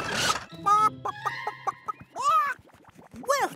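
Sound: cartoon chicken clucking

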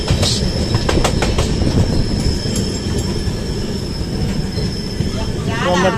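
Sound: train running on rails

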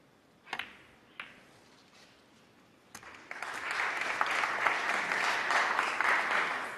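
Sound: crowd applause at a snooker match

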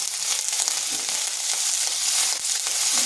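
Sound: ginger and garlic frying in a pan

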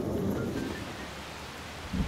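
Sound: rain and thunder in Persona 5 video game

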